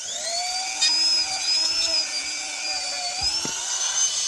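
A steady high-pitched whine of a small power tool polishing the edges around a newly installed rivet, continuous and close, with slight pitch wavering and a brief knock near the end.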